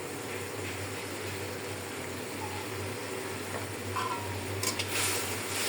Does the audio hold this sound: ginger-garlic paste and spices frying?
yes